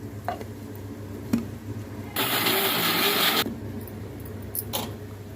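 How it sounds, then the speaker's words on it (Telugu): A kitchen mixer grinder whirs loudly for about a second while grinding sesame seeds and fresh coconut into a paste, then stops, leaving a quiet room with a few faint clicks and knocks. "మిక్సీ పెట్టాలి."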